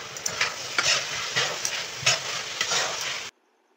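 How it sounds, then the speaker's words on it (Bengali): Grated coconut is stirred in a pan over low to medium heat for narkel naru, a steady scraping, sizzling rustle with rhythmic spoon strokes, close and fairly loud, stopping abruptly near the end. "নারকেলগুলিকে আস্তে আস্তে নেড়ে নেড়ে নাড়ুর একটা পাক আনতে হয়"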